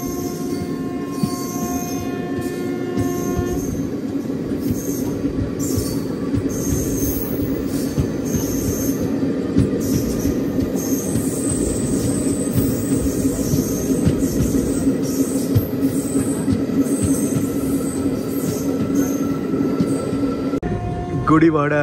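The Narsapur–Dharmavaram Express runs on the rails after leaving Kaikaluru, with a loud, sustained rumble and high wheel squeal throughout, heard from inside the moving coach.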